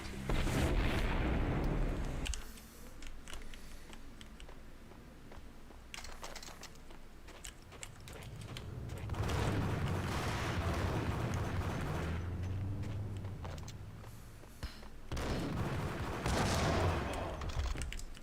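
Grenade explosions and bursts of gunfire from the Max Payne shooter game. Heavy booming blasts open the stretch, rumbling fire and detonations swell again near the middle and at the end, with no talk over it.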